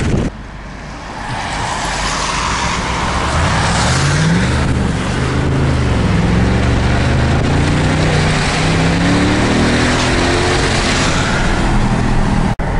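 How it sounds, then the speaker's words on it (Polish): A V8 car engine and exhaust roaring loud and close, the revs climbing and falling in repeated surges after a brief quieter start, continuous and with no talking. "Nie ma tu jak ryk ośmiocylindrowca."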